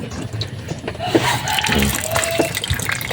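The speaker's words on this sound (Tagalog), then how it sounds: "pinapatapunan natin ng tubig konti oh para lang maagapan" Water splashes and pours steadily into a fish tub that had lost its water, a continuous running-water wash close by with a few brief tones over it.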